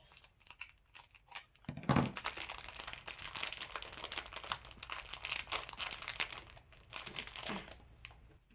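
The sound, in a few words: opening taped packaging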